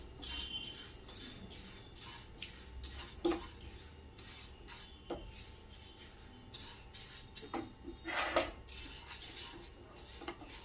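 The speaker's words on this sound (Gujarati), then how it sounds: "આ બધું આપણે રોસ્ટ કરીશું" Chana dal and toor dal dry-roasting in a pan for South Indian idli podi masala, with repeated scraping clinks of a metal spoon against the pan, steady and close throughout with no talk.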